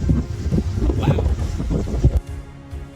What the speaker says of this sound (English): I don't know if you can hear me, but it's so windy